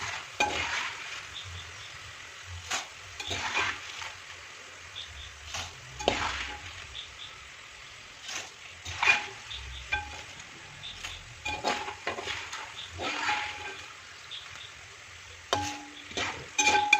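Jackfruit pieces frying in hot coconut oil, a steady sizzle broken by repeated scraping stirs and clinks of a metal spoon against the pan.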